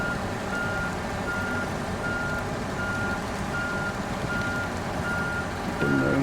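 A truck in SnowRunner reverses with steady, evenly spaced backup beeps over a loud, constant engine drone, and a low rumble swells at the very end.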